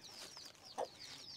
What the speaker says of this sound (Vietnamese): gà này có phải là gà của chú không Nhật?